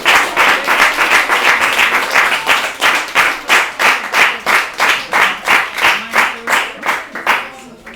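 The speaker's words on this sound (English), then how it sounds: "Please give all our poets a huge round of applause." An audience at a poetry slam applauds in a steady, rhythmic clapping pattern that holds for several seconds before tapering off, close and fairly loud.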